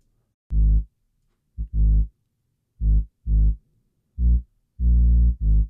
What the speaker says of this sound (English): And this is what the Moog sounds like by itself.